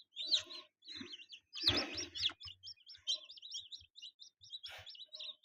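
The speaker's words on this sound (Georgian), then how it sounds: "არის წიწილები." Newly hatched chicks in a homemade incubator give rapid, repeated high peeping chirps in quick bursts, close but soft, with no talk.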